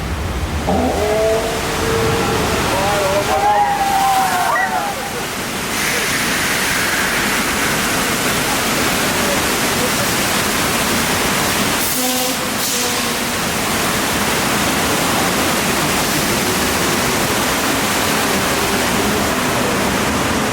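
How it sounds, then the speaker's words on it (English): Steady, loud rush of water gushing from a broken water main during an earthquake on a studio tour, with a few brief squeaks and knocks early on and a short break midway. "The water main just broke."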